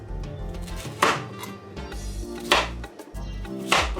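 A knife chops through yam on a board in a home kitchen, with three sharp, loud cuts spaced about a second and a half apart over a steady background of music.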